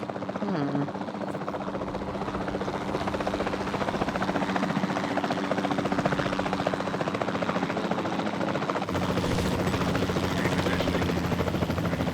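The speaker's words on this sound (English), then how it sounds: "Then the sensible thing is to take a capture team helicopter." A capture team helicopter in Jurassic World Evolution 2 flies with a steady, droning rotor whir and engine hum that persists throughout, shifting slightly near the end.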